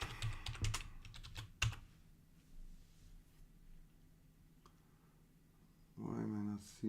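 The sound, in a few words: typing on a computer keyboard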